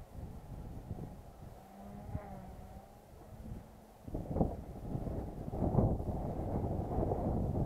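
Wind blows outdoors across a microphone around a small Align T-Rex 150 DFC model helicopter, coming in gusty, rumbling bursts that grow louder and rougher in the second half.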